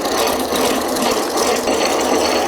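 A square wooden peg being hand-cranked through a Stanley 77 dowel maker, giving a steady, continuous rasping shave of cutting noise that stays even and fairly loud throughout, with no talking.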